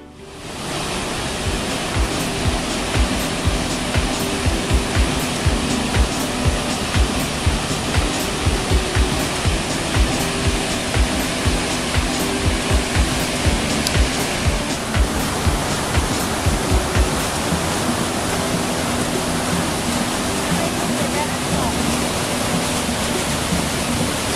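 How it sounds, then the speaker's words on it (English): Waterfall at Maligne Canyon in Jasper, a loud, dense, unbroken roar of rushing water with a rumbling low end, close by and steady throughout, no voices. "Enjoyed looking at the waterfalls."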